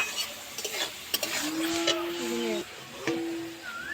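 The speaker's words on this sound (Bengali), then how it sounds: "দিয়ে সব সবজিগুলো ভালো করে ভেজে নেব।" Mixed vegetables fry with salt and turmeric in a pan for a sago pulao, giving a soft sizzle and scraping stirs, while a voice talks briefly over the cooking.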